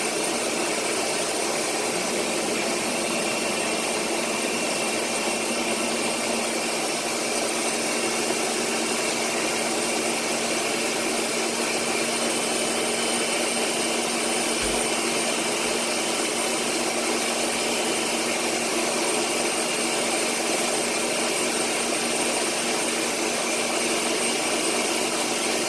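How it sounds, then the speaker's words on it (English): A kitchen blender whirs steadily while blending cauliflower mash with heavy whipping cream, a continuous even motor drone that runs alone without pause. "get that started blending"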